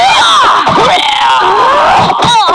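Loud, continuous screaming from a character in a fighting video game, with sweeping wavering cries layered over each other and filling the whole stretch.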